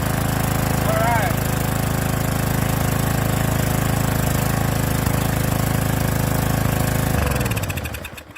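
A pressure washer's small gasoline engine runs loudly and close with a steady drone that never settles to a smooth idle, then winds down and sputters to a stop near the end.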